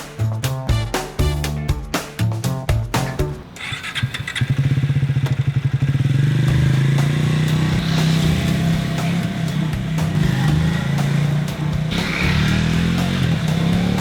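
A Triumph Speed 400 motorcycle is ridden. After a few seconds of rhythmic music, a loud, steady, close engine drone with a low harmonic hum takes over and holds to the end.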